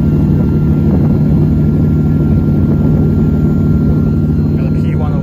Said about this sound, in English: driving the Countach